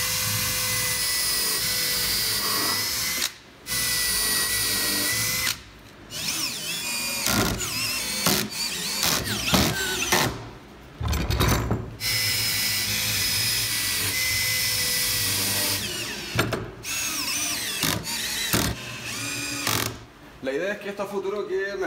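A power drill drives screws into a homemade wooden bike holder built for carrying a bicycle on a motorcycle, whirring in repeated bursts with brief pauses between runs, up close and loud.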